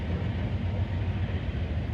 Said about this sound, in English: looks like this is some type of a work train right here